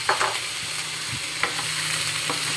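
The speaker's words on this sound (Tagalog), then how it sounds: "Ilalagay na natin yung ating chicken." Chicken drops into sautéed aromatics in a pot for Filipino chicken tinola, a loud, close sizzle with a few sharp stirring knocks and spatters over its short span, no speech.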